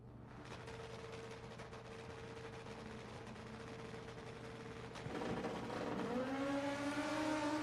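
Drag-racing motorcycles at a sportsman event roar steadily from a distance, engine tone climbing and swelling louder near the end as the bikes rev and pull away, with no talk over it.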